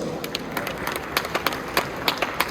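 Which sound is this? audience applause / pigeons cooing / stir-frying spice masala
audience applause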